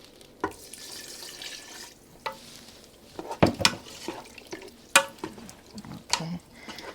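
Wine poured into a pot of Spanish pork with peppers, heard as intermittent splashing and liquid pouring with a few sharp clinks and bursts, fairly close, no talk.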